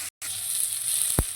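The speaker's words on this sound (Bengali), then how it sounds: "টমেটোটা ততক্ষণ ভেজে নেবো যতক্ষণ না টমেটো নরম হয়ে আসছে।" Chopped tomato frying in tempered spices over a low flame gives a steady, close hiss of sizzling oil with a brief gap near the start and a soft stir or tap toward the end; no talking.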